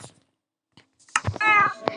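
A cat meowing in Minecraft, a short clear drawn-out meow after near silence, close and alone.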